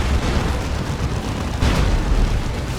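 A Demolisher Cannon blast in the video game Dawn of War 2 sounds as a loud, dense roar of battle noise, with a heavier booming burst partway through.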